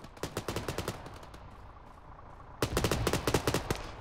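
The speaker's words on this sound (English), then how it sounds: "why is there lots of shooting going on?" Rapid automatic gunfire in a military shooter game, two bursts of quick cracking shots close by, separated by a short lull with softer distant firing.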